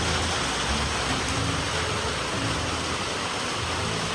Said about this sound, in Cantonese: 但係個3分鐘都行唔到，因為超級勁爆大雨